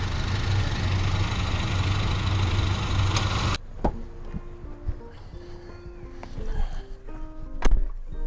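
Engine of a 2013 Honda Accord 2.0 EL idling steadily for about three seconds, then cutting out, followed by quiet clicks and knocks of cabin handling.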